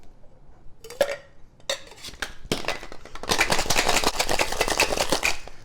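A large ice cube clatters into a cocktail shaker for a Penicillin cocktail, then vigorous shaking rattles on as loud, rapid, continuous knocking.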